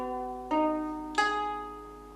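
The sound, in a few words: out-of-tune ukulele being strummed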